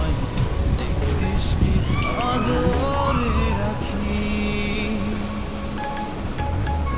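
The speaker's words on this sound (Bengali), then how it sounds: "পেঁয়াজগুলা ভেজে নেব লালচে আকারে করে" Lentil and onion fritters fry in hot oil, giving a steady, dense sizzle that sounds close and continuous throughout, with a voice talking over it.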